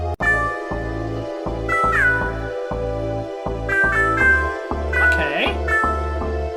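Rhythmic synthesized cat meows from DJ Meow in the Incredibox Coral mod loop over a pulsing beat, repeated meowing phrases riding on top of other musical layers, bright and upfront.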